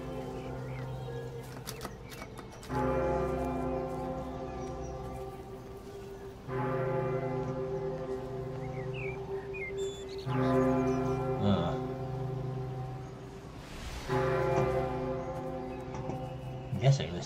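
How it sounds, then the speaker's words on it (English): Church bells toll in the Warhammer-free calm of the video game Everybody's Gone To The Rapture: four ringing strikes about four seconds apart, each hum lingering, over a soft ambient background. "Bells. They are very persistent."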